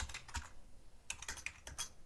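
Someone types a password on a computer keyboard while setting up a Bitget crypto wallet on a PC, producing a short, irregular burst of close, light key clicks with brief pauses and no talking.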